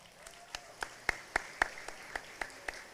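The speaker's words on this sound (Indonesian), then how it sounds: "Tepuk tangan untuk kita semua." Sparse, faint applause from a crowd at a Ramadan festival gathering, a scattering of separate claps about three per second rather than a dense roar, distant and thin.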